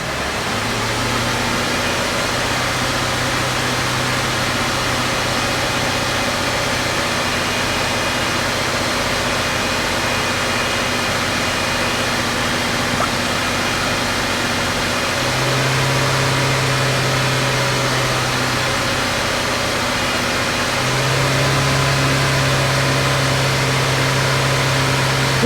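Car engine held steady at 2,000 rpm through scan-tool actuation, a continuous even drone with no talk that steps up slightly in pitch near the end.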